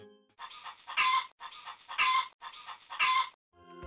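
A hen clucks in a Tajik folk fairy tale about a hen, a duck and a mouse, a repeating cartoon-style sound in three near-identical bursts at steady one-second spacing, close and clear with no talk.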